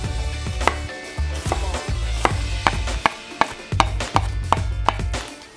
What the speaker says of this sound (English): We'll cut that in half and start our chopping.